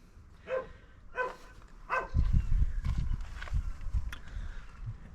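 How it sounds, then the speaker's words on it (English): A dog barks several times at a distance, about three short barks spaced roughly a second apart, followed by louder low rustling and footstep-like thumps close by. "And there's a dog barking here."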